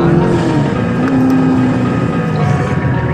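A supercharged front-engine Corvette C7 on an autocross course gives off a loud, steady engine roar with a shifting tonal whine. It sounds close and continuous over a brief span.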